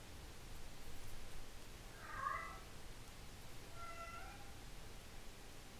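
A pet cat meows indoors, with a couple of distinct mid-pitched calls at moderate distance over a low, steady background hiss; no one speaks.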